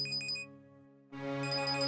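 A mobile phone rings with a repeating electronic ringtone, loud and close, breaking off briefly before the melody resumes.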